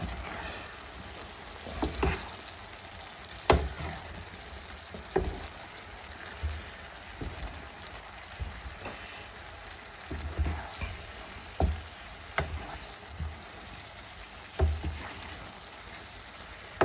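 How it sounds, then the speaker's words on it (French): Chicken pieces and peppers being stirred in a pan for poulet basquaise, with soft sizzling frying under repeated scraping and clattering of a utensil, irregular stirring strokes close by. "Et maintenant, je vais touiller un bon coup. On va remuer tout ça."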